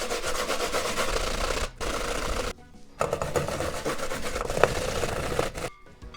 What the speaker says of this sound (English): Then use a grater, I'm gonna grate this.